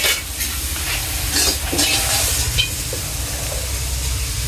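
Bitter gourd fries in a pan at home, giving a steady sizzle and hiss with occasional stirring scrapes, close and continuous without talk.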